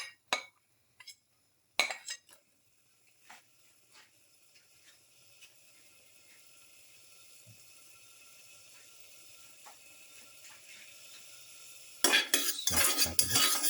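Shrimp shells in a hot oiled pan, first stirred with light metallic clinks and scrapes over a quiet, faint sizzle, then a sudden loud, crackling burst of frying near the end.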